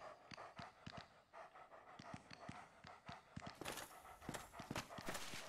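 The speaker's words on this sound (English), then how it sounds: "Is that a dog?" A dog creature in the video game Dark Souls pants and runs with quick rapid footfalls and breathy huffs, close and moderately loud over faint game ambience.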